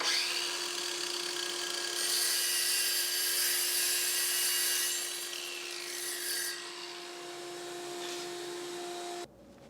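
A Ryobi flooring saw blade cuts through a piece of flooring with a loud, steady whine and rasping friction that runs for about nine seconds, then stops abruptly.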